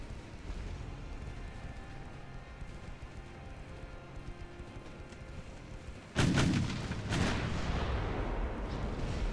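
Naval guns fire high-explosive shells in a dreadnought-era warship battle game: after a steady low rumble of background noise, a loud boom lands around six seconds in and a second blast follows a second later, with a rolling roar trailing behind.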